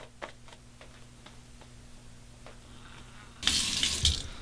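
A stainless steel safety razor is rinsed under a running tap, starting with faint scattered ticks over a low hum, then a loud rush of water rises near the end.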